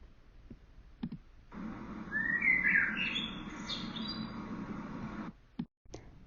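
A blackbird sings a short whistled phrase of rising, warbling notes over a soft low hum, fairly close and clear, with brief clicks before and after and no voices.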